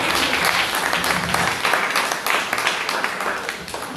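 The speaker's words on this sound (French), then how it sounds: "Est-ce qu'on peut acclamer le Seigneur?" A church congregation at an Easter celebration applauding to acclaim the Lord, a steady, enthusiastic wash of many hands clapping that fills the room and holds throughout, with a faint hint of voices beneath.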